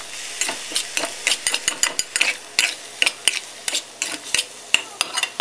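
Meat frying in a pan, flipped partway through: a busy run of crackling sizzle and pops with repeated sharp clinks of a utensil against the pan, close and steady with no talking.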